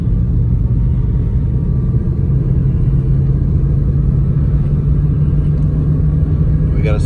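A 1954 Studebaker Champion gasser with a new exhaust drives in first gear, its engine a loud, steady, deep rumble heard from inside the car, constant throughout with a faint hum layered on top.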